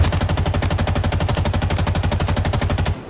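Assault rifle in Halo Infinite firing one sustained full-auto burst, rapid evenly spaced loud shots for about three seconds before stopping abruptly.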